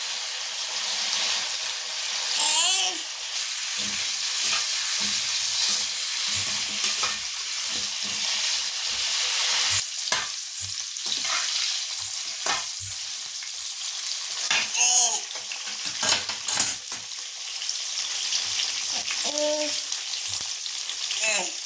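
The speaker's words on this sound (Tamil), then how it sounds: "கத்திரிக்காய் பார்த்திங்கன்னா நம்ம நல்லா சுருள இந்த எண்ணெயிலே வதக்கணும்" Brinjal sautéing in oil in a pan, a constant close sizzle broken by repeated scraping stirs of a spatula.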